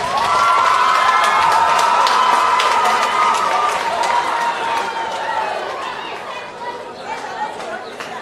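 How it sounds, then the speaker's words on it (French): Crowd cheering and acclaiming at a school laureates' evening for an honoree, loud chatter and shouts with whistle-like tones sustained throughout, easing slightly toward the end, with some voices talking in the crowd. "Sous vos acclamations, s'il vous plaît."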